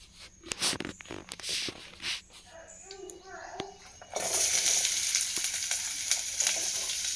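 Eggs hit hot oil in a pan on a home stove and burst into a loud, steady sizzle that fills the second half, after quieter kitchen clatter and a voice talking.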